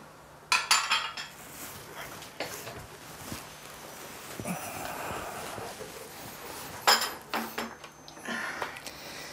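Cups and dishes clink and clatter intermittently while tea is made, light ceramic and cutlery knocks scattered at close range over a low room hum, with occasional footsteps and soft movement.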